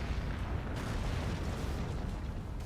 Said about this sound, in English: the empowered cannon just punches clean through